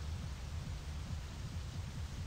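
Rain in My Summer Car, a faint steady hiss of falling rain over a low rumbling throb from a Saveiro turbo car, no voices.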